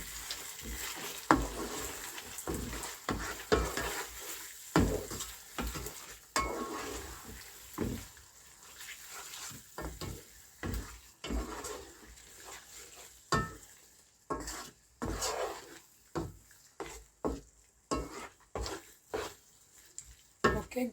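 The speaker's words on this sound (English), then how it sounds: "So now I will give it a good stir." A spoon stirs spaghetti sauce in a cooking pot, giving repeated scraping and clinking strokes against the pot with a soft wet sizzle underneath, close and moderately loud, steady and rhythmic throughout.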